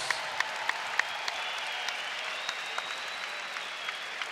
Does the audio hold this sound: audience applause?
yes